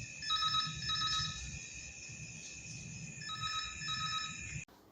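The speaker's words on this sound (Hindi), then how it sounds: "अभी तक आप रिंगिंग सुन रहे हैं" A telephone rings on and on with no one picking up, a repeating electronic double-burst ring in bursts through a quiet room, stopping abruptly near the end, at an electricity company office at night.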